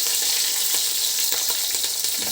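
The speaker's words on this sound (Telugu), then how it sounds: "Oil heat ఎక్కిపోయింది. దీంట్లో మన స్పైసెస్ వేసుకుందాం." Spices and two green chillies hit hot oil in a pan, giving a loud, continuous crackling sizzle of close frying with bright spattering texture and no talk.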